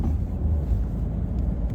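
Renault Clio IV Limited, a small city car, accelerating on the road, heard as a steady low engine and road rumble from inside the cabin with some wind noise, no talk.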